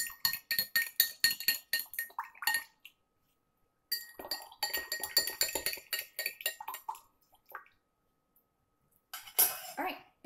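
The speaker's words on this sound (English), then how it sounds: "Just going to stir that honey in there." A metal spoon stirs honey into a glass of mullein tea, clinking rapidly and rhythmically against the glass in bursts separated by short pauses, close up and with no talking.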